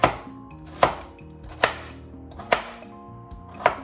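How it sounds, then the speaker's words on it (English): A knife chops vegetables on a board in slow, evenly spaced strokes, five sharp knocks close by with ringing pauses between, no voices. "go with the knife, chopping it like this"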